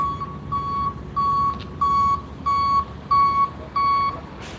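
Tow truck reversing during a California Highway Patrol DUI arrest in La Puente, giving a steady series of seven sharp, evenly spaced beeps at moderate distance over low street rumble.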